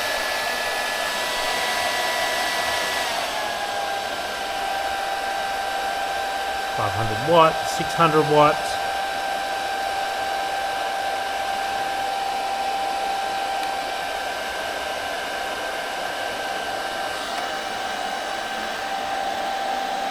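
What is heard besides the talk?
hair dryer running on battery inverter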